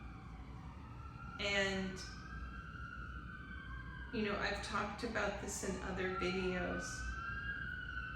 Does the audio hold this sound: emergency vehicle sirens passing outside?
yes